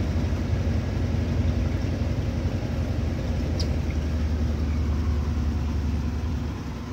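A Brastemp Vantage washing machine spinning down after its spin cycle, a loud steady low rumbling hum that eases slightly as it slows.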